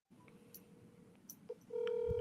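A phone line clicks and hums faintly, then a steady electronic tone sounds, like a call to a disconnected number hitting an out-of-service signal.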